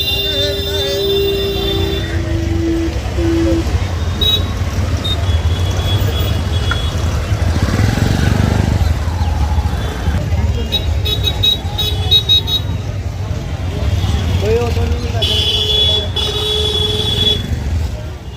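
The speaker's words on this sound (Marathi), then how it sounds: "आता रिक्षानं जायचं आहे त्या साईडला" Auto rickshaw ride through busy road traffic, with a steady engine rumble, road noise and occasional car horn toots throughout, loud and continuous.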